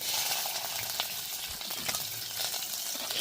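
Steady crackling sizzle of mustard seeds frying in hot oil, dense and continuous with scattered louder pops, no voices.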